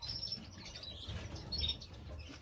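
Small canaries in an indoor birdroom flutter their wings in soft bursts while thin, high chirps break through now and then, close and fairly quiet.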